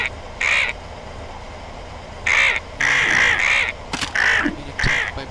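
Vultures in the Dune Raider video game give repeated harsh, rasping caws in bursts, loud and close over a low steady background.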